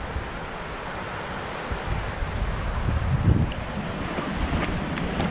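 A deep river swollen after a night of rain rushes steadily in a broad, continuous roar, its churning surge swelling slightly midway, with wind buffeting the microphone and no voices.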